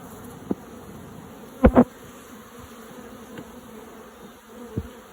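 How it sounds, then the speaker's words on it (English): Soft, steady insect buzzing fills the background at low volume, with a few brief louder thumps breaking in, like bees milling close around a hive. "Honeybees are mostly friendly until you try to get in their hives."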